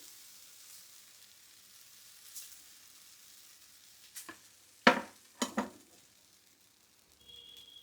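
Thick uttapam batter meets a hot griddle with a faint, low sizzle, punctuated by a few sharp metallic clinks and scrapes of a ladle, quieter in between; no talking.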